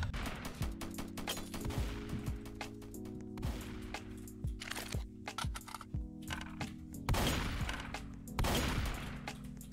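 Repeated sharp shotgun blasts in the Roblox shooter Strucid during a box-fight match, irregular bursts of loud close shots over a steady background hum, with heavier volleys near the end.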